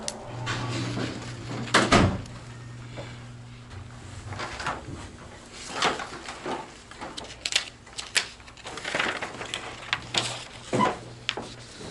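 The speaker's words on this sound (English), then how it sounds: "Mind if I close this door, sir?" An office door in McKee, Kentucky swings shut with a single solid thud near the start, followed by faint shuffling, handling noises and scattered knocks in the room.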